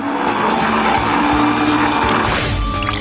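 A blender runs with its lid on, churning an ice cream mixture with caramel syrup; the motor gives a steady, loud whir that holds without a break for the whole stretch, with no one talking.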